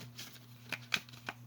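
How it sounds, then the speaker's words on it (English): A few soft, scattered rustles and flicks of a Halloween oracle card deck being shuffled by hand. The cards are slightly sticky. The sound is quiet and close, with short bursts spread over a second and a half. "Okay, I'm just going to shuffle."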